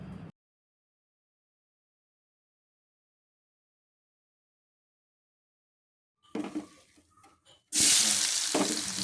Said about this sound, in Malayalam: ഈ പെരട്ടി വെച്ചിരിക്കുന്ന സോയാബീൻ ഒന്ന് എണ്ണയിലിട്ടൊന്ന് ഷാലോ ഫ്രൈ ചെയ്തെടുക്കുന്നുണ്ട്